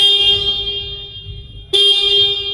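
A Piaggio Medley 150 S scooter horn blares in a sustained electronic tone, cuts out briefly, then sounds again just as loud, close to the listener.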